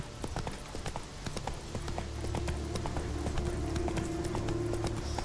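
A horse gallops in The Witcher 3, hooves clip-clopping in a rapid, steady rhythm close by, loud over a low ambient rumble and continuing throughout.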